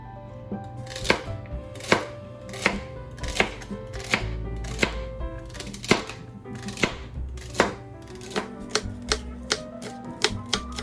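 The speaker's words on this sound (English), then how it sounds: "All of our herbs are all minced in together." Herbs from an indoor herb garden minced with a knife on a cutting board, a run of sharp, close chopping taps in an irregular rhythm that quickens toward the end, with no talking.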